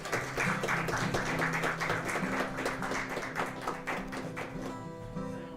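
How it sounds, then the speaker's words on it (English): A live audience gives a round of applause at a small show, dense clapping that holds steady for several seconds before thinning out, with a faint musical tone underneath near the end. "Why don't you give Steev Pothoff a nice round of applause"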